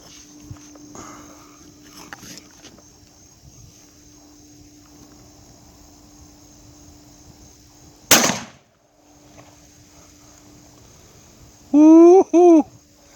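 A rifle fires a single sharp, loud, close-range shot while being zeroed at 25 yards, standing out against a quiet outdoor background. A couple of brief tonal sounds follow a few seconds later.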